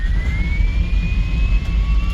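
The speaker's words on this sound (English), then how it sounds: "you will hear the wind of the drive unit" A Tesla electric drive unit swapped into a Datsun 240Z gives a steady high whine that slowly climbs in pitch, riding over a continuous low road and wind rumble, with no talking.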